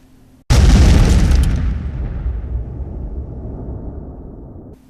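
An explosion effect for a movie review intro bursts in suddenly as a loud boom, then rolls into a long, fading rumble that tails off over several seconds.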